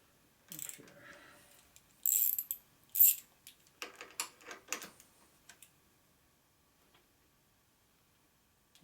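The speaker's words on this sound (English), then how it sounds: "And now I can tighten this with this wrench." Wrench ratcheting as a bolt is tightened during a 2001 Gilroy Indian motorcycle race bike rebuild: a few sharp metallic clicks and clunks in short bursts, close up, then quiet, with no talking.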